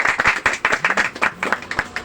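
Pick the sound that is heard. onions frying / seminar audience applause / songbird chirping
seminar audience applause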